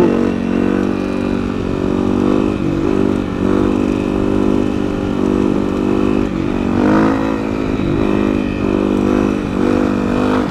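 A motorcycle rides along dirt trails, its engine droning steadily and revving up and down through gear shifts, loud and close throughout with no talk over it.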